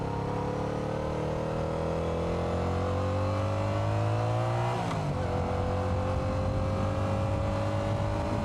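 Highway traffic heard from a Yamaha R7 motorcycle: engine drone rises steadily in pitch, then a vehicle rushes past up close with a sharp pitch drop, followed by continuing loud traffic rumble.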